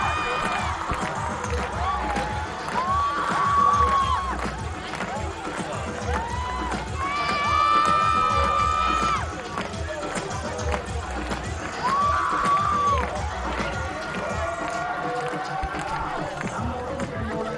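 A crowd at a Pakistan Women vs Windies Women T20 cricket international at Southend Club Ground, Karachi, makes a steady din, with chanting or horn-like tones swelling in several bursts over continuous background noise.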